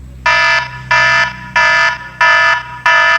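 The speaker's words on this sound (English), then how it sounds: "Alarm, ascending." Alarm-style ascending ringtone from an iPod touch 4th generation: five loud, evenly spaced electronic beeping bursts, each about a third of a second, repeating steadily over a low background hum with no talking.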